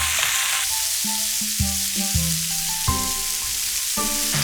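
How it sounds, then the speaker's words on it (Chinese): Chopped wild mushrooms sizzle loudly and continuously after going into very hot oil in a wok, with a melodic tune playing underneath throughout. "我们把我们切好的菌子全部倒入锅中。 看到没有？ 边煎边炸它。"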